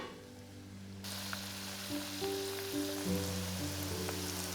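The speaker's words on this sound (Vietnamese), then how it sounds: "Mình chiên đến khi lớp vỏ vàng phồng rộp đều hết các mặt là được." Vegetarian wontons deep-fry in oil over medium-low heat, giving a continuous, even sizzle with tiny crackles alongside a low steady hum, and no one speaking.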